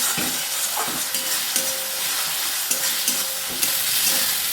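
Spice masala with nutmeg powder being stirred in a pan for a jackfruit curry, with repeated scraping strokes over a steady, close sizzle and no talking.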